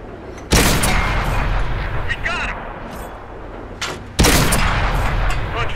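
A tank gun in World of Tanks fires two heavy, close blasts about four seconds apart, each a sudden booming crack that rolls into a long rumbling tail, with voices talking in the background.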